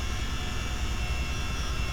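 Steady low rotor and engine drone of a CH-47D Chinook helicopter in Microsoft Flight Simulator, a continuous loud rumble with a pulsing low end and no talk.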